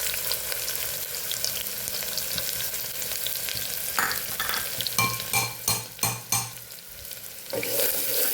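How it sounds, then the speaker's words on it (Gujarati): Sliced onion sizzles in hot oil with cumin, mustard seeds, bay leaf and dried chili, a constant close frying hiss broken by a run of spoon scrapes and clinks against the pan. "ડુંગળીને સરસ સાતળી લેવાની છે આપણે।"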